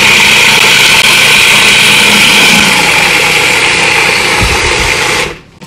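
A food processor whirs steadily while blending peanut butter hummus, a loud continuous motor drone that cuts off abruptly near the end.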